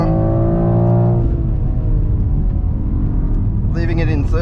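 A 2023 BMW X4 M Competition accelerating hard through a corner at the Nurburgring, its engine droning loudly and steadily from inside the cabin, with someone talking over it.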